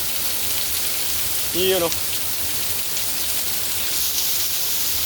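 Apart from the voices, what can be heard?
heavy rain falling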